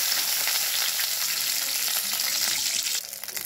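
Green chilies frying in hot oil for a Bengali fish curry, a loud continuous bright sizzle and crackle close up, briefly dipping near the end.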